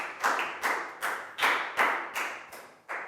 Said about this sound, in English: Big round of applause for Bang Bong,